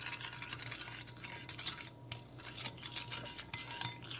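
A spoon scrapes and clinks softly inside a small cup, stirring an orange dessert mixture with hot water. The stirring is quiet and steady, with a background hiss and no voices.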